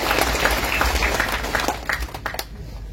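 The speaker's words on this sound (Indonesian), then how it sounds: "Mari kita tepuk tangan untuk suster." Congregation at a Catholic silver jubilee thanksgiving for a nun's 25 years of religious life applauds, dense clapping at first that thins into scattered claps and fades near the end.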